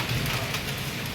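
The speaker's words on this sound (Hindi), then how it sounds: "बारिश बहुत पड़ रही है" Heavy rain pouring down steadily, a dense close hiss of drops drumming on surfaces, including an air conditioner unit, with no other sounds standing out.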